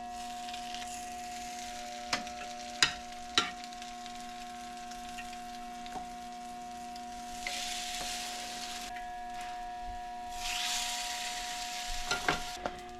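Food frying in butter in a pan, with a steady soft sizzle, bursts of louder hissing crackle and a few sharp utensil clicks near the start and end.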